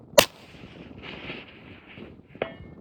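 A single sharp rifle shot cracks near the start, fired at a 1000-yard target through a 7-35x scope, followed by wind noise and a fainter distant report about two seconds later.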